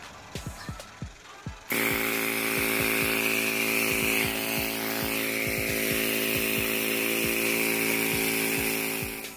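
A few sharp taps, then a pneumatic air tool starts and runs continuously with a loud, high hiss and buzzing whine, close by, while metallic knocks repeat beneath it, during work on a Honda Civic D16Z6 engine.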